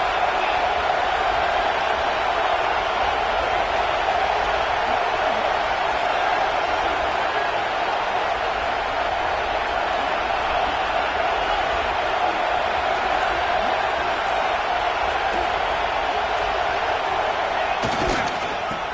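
A large stadium crowd at an American football game roars continuously during a goal-line stand, a dense wall of cheering that holds steady throughout, with a sharp thud near the end.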